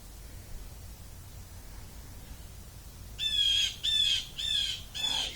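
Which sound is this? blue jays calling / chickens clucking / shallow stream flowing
blue jays calling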